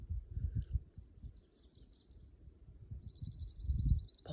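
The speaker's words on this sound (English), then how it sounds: "Lots of birds, different kinds, different sounds, different chirping." Several birds of different kinds chirp and twitter faintly in the distance at a backyard sanctuary, with short high calls scattered across the clip over low rumbling background noise.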